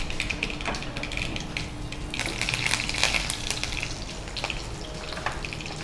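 Garlic, curry leaves and mustard seeds sizzling in hot oil for a tempering: a steady close crackle with spatters and pops throughout, no talk over it.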